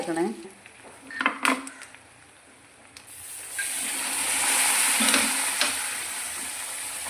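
Curry leaves hit hot oil and give a bright, hissing sizzle that swells and holds for several seconds, coming after a few clinks and scrapes of a utensil in the pan, for a shark pickle.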